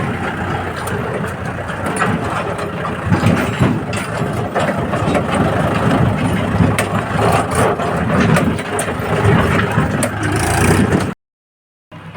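A tractor engine runs close by on a village lane, a loud, steady, rumbling drone that cuts off abruptly near the end.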